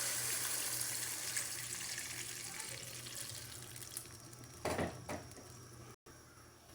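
Water runs steadily into a cooking pot for sinigang broth, a continuous splashing flow with clinks of pots near the end, close and moderately loud with no talking.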